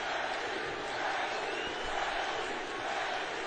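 Arena crowd in Glendale roaring steadily in support of UFC fighter Justin Gaethje during a third-round fight, a dense continuous wall of cheering at moderate level with no clear talk.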